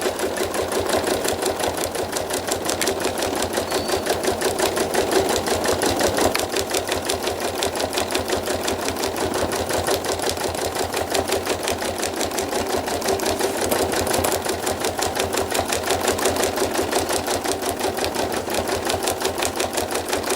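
Sewing machine stitching around trapunto flowers on a quilt, a loud, rapid, even mechanical chatter running without a break, close by.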